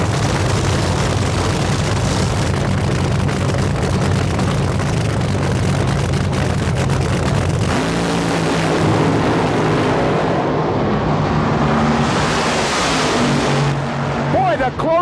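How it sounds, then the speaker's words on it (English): Drag racing cars roar down the strip in a head-to-head final, one near-lane and one right-lane machine, giving a continuous loud engine blast under an announcer's commentary. "The closest drag race of the day."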